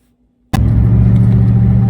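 A truck engine roars in abruptly after near silence and holds a loud, close, rumbling drone as it accelerates.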